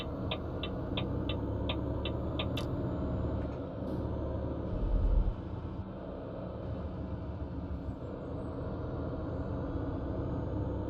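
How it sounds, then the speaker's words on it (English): A truck's engine brake in Euro Truck Simulator 2 gives a steady, low, droning rumble during mountain driving, with a short run of quick beeps early on and a brief deeper surge around the middle. "I do like the engine brakes are quieter on this because I don't feel so bad using them in town and stuff."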